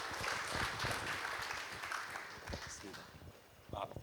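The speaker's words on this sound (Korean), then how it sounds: "그럼 큰 박수로 사회대 우리 김대일 학장님 맞아주시기 바랍니다." An audience at an academic conference claps to welcome a university dean to the stage, a moderate patter of hands that thins and fades over a few seconds, with a few scattered louder claps near the end.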